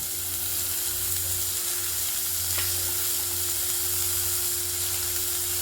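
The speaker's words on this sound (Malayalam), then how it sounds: "എണ്ണ ചൂടായതിന് ശേഷം ഈ ഉള്ളി ഇടുക." Onions frying in hot oil, with a steady broadband sizzle and a low hum underneath, continuous and close for the whole stretch, no talking.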